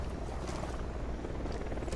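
A unit helicopter in the video game Ghost Recon Wildlands flies nearby, its rotor and engine making a steady, loud, rough whir that runs continuously with no talk.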